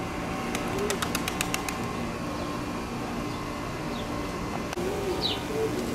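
Pigeons cooing around a pigeon loft during a racing-pigeon session, soft low coos repeating over steady outdoor ambience, with a burst of faint high chirps early on.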